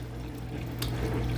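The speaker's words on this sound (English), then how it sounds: "The next thing I'm going to do is go in with some water here." Water pours steadily into a pan of raw chicken for boiling, a close, continuous splashing flow that swells slightly near the end.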